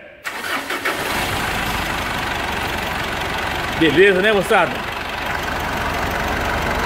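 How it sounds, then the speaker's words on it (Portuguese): A Mitsubishi L200 Triton pickup's 3.2 engine cranks and starts, then settles into a steady, even idle; someone briefly speaks over the running engine. "O motor está funcionando redondinho também."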